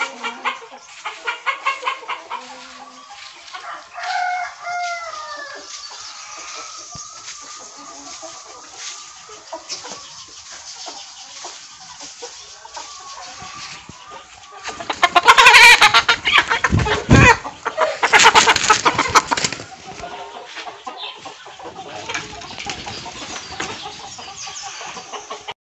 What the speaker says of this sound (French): Et là, à côté, je vous montre des poulets africains.